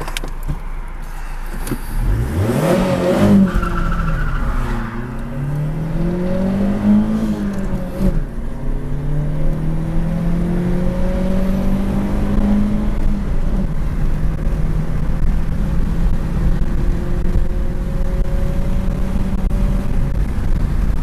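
A Lada Priora accelerates hard down a quarter-mile drag strip, its engine note climbing steadily through the gears with brief dips at each shift, loud and continuous for the whole run with no talking.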